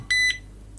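A Tuya door/window sensor gives a single short, loud electronic beep, a steady tone lasting about a fifth of a second, followed by quiet; no second beep stands out.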